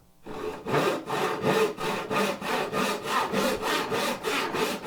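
A hand saw cuts through a wooden board in steady back-and-forth strokes, about eleven loud, rasping passes heard up close with no voices.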